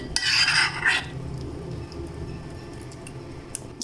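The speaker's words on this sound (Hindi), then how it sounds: "मिक्स करेंगे" Barley and gram flour paratha batter is stirred in a bowl, starting with a loud, wet scraping burst and then settling into softer, steady swishing and faint clicks of the spoon against the bowl.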